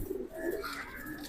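A pigeon gives a short, soft coo of a few low throaty notes, faint and nearby with no other sounds.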